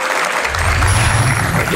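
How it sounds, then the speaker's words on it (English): At a live science outreach event, a crowd gives a loud, dense burst of applause that stays steady and close throughout the brief moment, with no voices standing out above it. "Give her a big round of applause, everybody."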